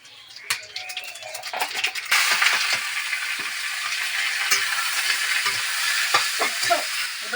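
Nigella seeds and broken dried red chillies sizzling in hot oil, a loud continuous frying hiss that swells and stays steady, punctuated by light scraping clicks of a spoon against the pan.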